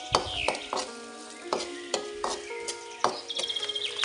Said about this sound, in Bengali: এবার একটু নেড়ে ছেড়ে ভেজে নিব।